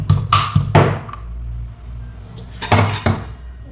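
Peeled garlic cloves crushed in a home kitchen for a fenugreek leaf dish: a quick burst of hard knocks and clattering strikes, a pause, then another short cluster of blows.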